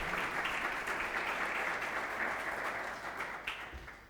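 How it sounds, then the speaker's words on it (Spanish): Applause from a conference audience welcoming a speaker at an innovation networking event, a steady dense wash of clapping that slowly thins out toward the end. "damos un aplauso a Carlos y vamos a ello"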